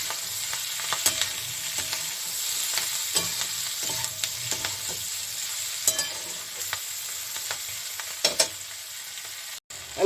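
Spice paste hits a frying pan of spring onions and turmeric, giving a soft continuous sizzle with intermittent scraping and stirring clicks from a utensil, close and fairly quiet.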